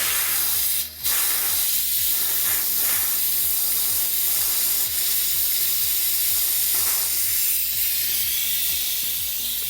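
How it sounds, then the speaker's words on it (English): A continuous loud high-pressure air hiss as a Daystate Super Leggero 4500 psi compressor's condenser valve line is drained, with a steady rhythmic mechanical ticking underneath throughout. "I'm gonna drain what's remaining out of our line on our condenser valve"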